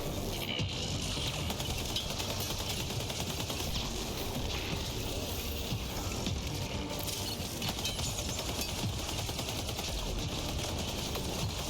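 Robot enemy firing in Mass Effect: Andromeda, a dense, continuous rattle of gunfire mixed with mechanical clanking that holds steady and moderately loud from start to finish.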